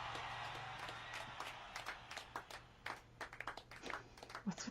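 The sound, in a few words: audience clapping in a live concert recording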